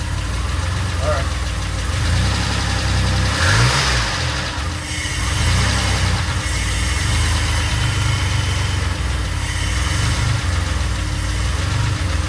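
A DeLorean engine idles steadily outdoors after a new idle speed motor was fitted, a continuous low mechanical hum with a slight swell midway, while people talk nearby.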